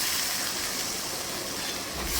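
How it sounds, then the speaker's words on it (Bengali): A little water poured into hot cooking masala for chicken muitha, a steady loud hiss and sizzle filling the whole moment, swelling again at the end, with no talk. "আমি জল দিয়ে দিচ্ছি সামান্য।"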